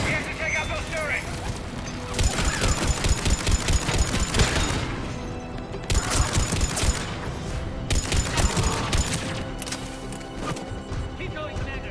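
Cerberus turrets in the video game Mass Effect 3 fire in loud, sustained bursts of gunfire, with crashes and impacts amid battle noise and voices speaking.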